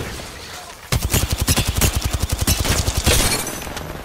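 Rapid automatic gunfire from a shooter video game starts abruptly after a quiet moment and rattles in a fast, even burst of loud, close shots for about two seconds, then trails into a dense tail.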